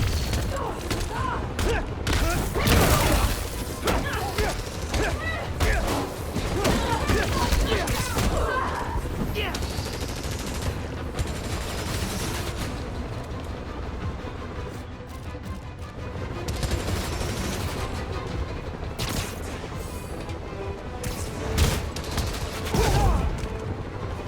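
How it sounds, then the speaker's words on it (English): Sustained gunfire from enemy gunmen aimed at Spider-Man in the game Spider-Man: Miles Morales, dense overlapping volleys and crashes filling the whole stretch, loud and close, with voices shouting over the shooting. "Quit moving! Firing on Spider-Man!"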